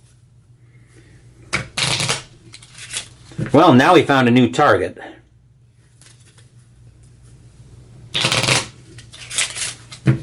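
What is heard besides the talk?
shuffling a deck of cards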